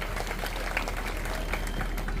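A large crowd at an Ambedkarite protest march in Kopargaon, with thousands taking part, claps together in a dense, continuous wash of applause that holds steady throughout, with no voice rising above it.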